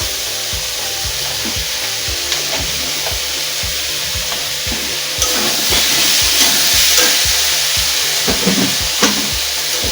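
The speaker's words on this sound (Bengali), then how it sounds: "এবার আমি পেঁয়াজ, লঙ্কা, আদা বাটা দেবো।" Onion, chilli and ginger paste fries in hot oil in a wok, a loud, steady sizzle over a regular rhythm of spatula scrapes and knocks, growing brighter partway through.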